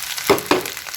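Cabbage and other vegetables dropped into a hot pan for veggie fried rice, giving two quick close sizzling bursts that fade into a faint crackle.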